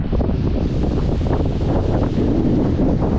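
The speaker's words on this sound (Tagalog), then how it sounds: "lakas ng hangin" Loud, blustery monsoon wind buffets the microphone in a constant low roar, with no voices heard.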